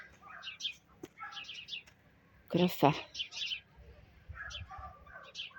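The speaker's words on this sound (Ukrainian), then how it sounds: "Горобці співають, тиша, спокій, поки нічого не гудить." Sparrows chirp in quick, scattered bursts nearby in a Ukrainian village, with a brief spoken word in the middle of the chatter.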